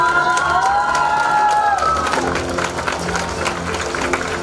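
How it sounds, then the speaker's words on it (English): A crowd at the National Student Innovation Challenge award ceremony breaks into loud applause and cheering, a sustained wash of clapping and shouts filling the hall. "please give them a huge huge round of applause"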